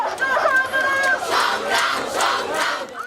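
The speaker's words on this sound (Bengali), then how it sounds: "বক্তব্য প্রত্যাহারের দাবিতে বিভিন্ন স্লোগান দিতে থাকেন শিক্ষার্থীরা" Dhaka University students chant protest slogans at night, a loud crowd shouting in unison with rhythmic bursts of voices rising and falling.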